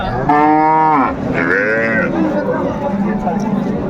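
A cow at a village cattle market in Dinajpur lets out a loud, close, drawn-out moo followed by a second shorter call, with people chattering in the background.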